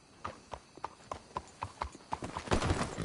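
Horses in Red Dead Redemption 2 clip-clop at a steady walking rhythm, each hoof strike crisp and close, with the steps bunching into a denser trot near the end.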